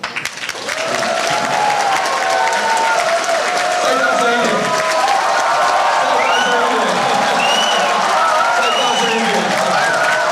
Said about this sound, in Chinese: 我们特别要给最热烈的掌声给 Laura Rosenberg